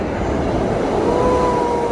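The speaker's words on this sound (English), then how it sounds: "Oh no, this train's going the wrong way." Subway train in New York City, a loud, continuous rumble of a train in motion with a faint tonal whine rising partway through, no voices.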